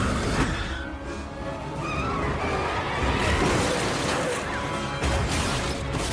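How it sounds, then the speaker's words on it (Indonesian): Cars skid and crash during a police car chase in an action film as a vault is dragged through the streets, a dense, loud wash of engine roar, tire noise and impacts running throughout without a break. "Dom dengan sengaja melepaskan pengait di mobil Brian dan kemudian putar balik untuk menghancurkan mobil-mobil para polisi."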